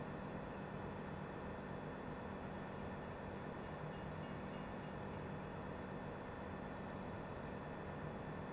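A train in Farming Simulator 17 rumbles past in a continuous low, steady drone, fairly quiet and unbroken throughout, with no voices.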